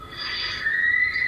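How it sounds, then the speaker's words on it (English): A shrill, strained shriek, like a terrifying scream, rising and then holding a piercing high tone for just over a second above faint background noise. "this terrifying shriek made my hair stand on end"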